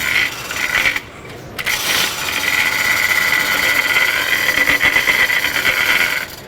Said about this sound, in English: notice right now, the chains are hitting the lumber that's inside the 4-inch cast iron pipe